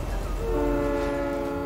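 Train in the video game Fortnite, a brief close horn blast with steady tones over a heavy low rumble of the moving train.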